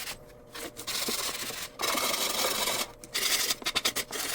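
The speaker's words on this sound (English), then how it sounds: "So I'm sanding all the sides" A Dollar Tree sanding block rubs along the edges of a small wooden shelf in close, rasping strokes, with several sustained passes separated by brief pauses and quicker short strokes at the end.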